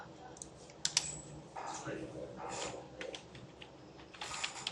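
Computer keyboard keys tapped in short irregular bursts, fairly close and moderate in level, with a voice talking over much of the clicking during a PHP role-based login coding session.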